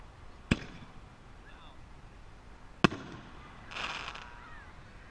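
Brand-new 60 gram Inferno artillery shell fireworks burst at an outdoor demo: two sharp, separate booms a couple of seconds apart, then a softer crackling shower, heard from a distance with a faint whistle between.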